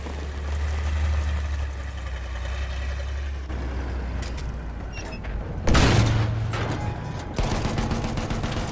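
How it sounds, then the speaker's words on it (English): Mortar fire in a Battlefield 1 match: a low rumbling engine-like drone with a sharp loud blast near the middle, followed by further booming impacts, no talk. "Oh, they're mortaring."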